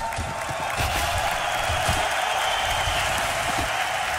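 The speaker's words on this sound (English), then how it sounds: "He wants to hear the crowd get loud for NIP." Crowd in a Swedish esports arena at a DreamHack quarter-final match cheering and applauding for Ninjas in Pyjamas, a steady, dense roar of clapping and voices sustained throughout at fairly loud level.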